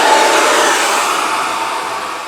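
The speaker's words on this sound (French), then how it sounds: "je vais rebrancher mon sèche-cheveux parce que j'avais mis le casque à la place" Handheld hair dryer blowing steadily close by, a loud continuous airy whoosh that eases slightly toward the end, with no voices.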